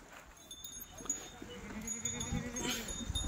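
Village goats bleat in a market pen, with a few short calls rising over low background murmur and shuffling.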